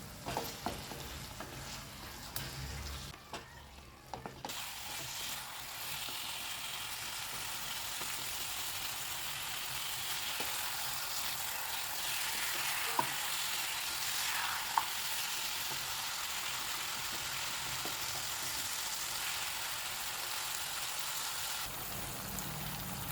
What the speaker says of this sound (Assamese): এতিয়া চিকেনখিনি মিডিয়াম ফ্লেমত ফ্ৰাই কৰিম।